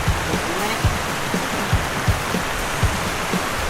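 Steady rain hisses as a dense, even wash of sound, with faint soft thuds of drops scattered throughout, close and continuous.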